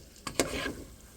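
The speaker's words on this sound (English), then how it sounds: "after frying it for a couple of seconds" Food fries in a pan, with two quick sharp clatters followed by a soft, brief sizzle that fades out over about a second.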